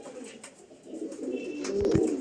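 Pigeons coo softly in low, throaty murmurs close by, with a faint chirp and a few clatters toward the end.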